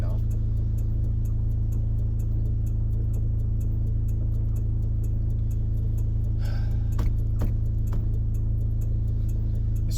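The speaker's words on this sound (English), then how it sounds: "This truck is loud." A loud pickup truck engine on a road trip: a steady, loud low drone fills the whole stretch, with faint ticking clicks and a brief rattle near the end.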